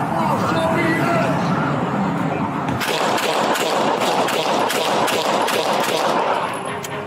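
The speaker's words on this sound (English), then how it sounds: "Shots fired, shots fired." Gunshots from a Denver police shooting, caught on body-worn camera in a parking lot, crack in a rapid burst of many loud shots over a harsh background of noise and commotion.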